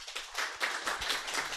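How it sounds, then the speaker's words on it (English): Audience applause greets Ambassador Blake as he is called to the stage at a foreign policy forum, a brief burst of scattered clapping from a moderate-sized room, fairly steady throughout. "Everyone, give applause to Ambassador Blake"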